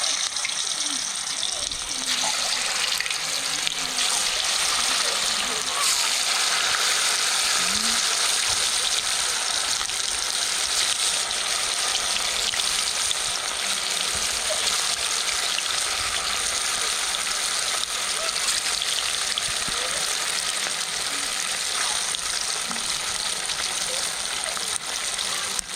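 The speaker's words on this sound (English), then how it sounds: "so now we start frying" Fish balls frying in oil in a pan, Sierra Leone style home cooking, a loud steady sizzling hiss close by that holds for the whole stretch without pause.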